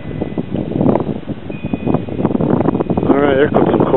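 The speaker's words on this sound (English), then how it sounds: "there comes some cool wind" Outdoors, wind gusts buffet the microphone beside a small LED wind turbine. The rumble swells and stays steady while a person talks over it.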